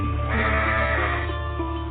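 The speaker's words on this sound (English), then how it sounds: "Here are some of my very best sheep." A cartoon sheep from a Bible story of Abel the shepherd gives one loud, sustained bleat that fills the whole moment, close and unbroken, with no talking over it.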